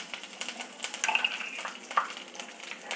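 Chillies and curry leaves crackling in hot oil in a pan: a soft, continuous sizzle broken by a few sharper pops and a light clink, without any talking.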